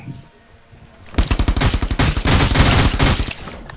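Gunfire in the video game Rules of Survival: after a quiet second, long bursts of rapid automatic shots, loud and close, run without a break to the end.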